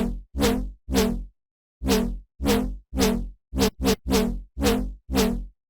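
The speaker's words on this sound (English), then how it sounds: "Bass Skillet is really weird and cool and sounds like this." Bass Skillet, a weird synth bass sample from a bass house sample pack, sounds as about ten short, plucky, buzzing stabs in a choppy syncopated rhythm, each decaying quickly into silence, close and alone.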